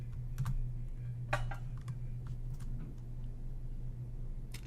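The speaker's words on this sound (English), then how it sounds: "So I'll type that into the search query." Quick bursts of keystrokes on a computer keyboard entering a sales search query, irregular clicks near and clear over a steady low electrical hum, with no voices.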